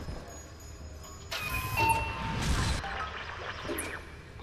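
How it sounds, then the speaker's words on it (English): A bell being struck in the video game BioShock 2, a bright metallic ring that swells over a low rumbling game backdrop and then fades, with a second fainter chime following, no talking. "let's go ahead and hit the bell"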